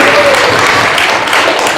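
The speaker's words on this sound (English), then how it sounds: "Give yourself a round of applause" Loud, dense applause from a morning audience at a talk, a continuous close wash of clapping with crowd murmur beneath it.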